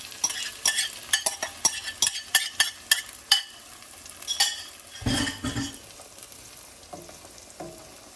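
Four beaten eggs pour into a pan of tender onions and bacon, with brisk stirring clinks and scrapes over a close, steady sizzle, then a softer bubbling fry.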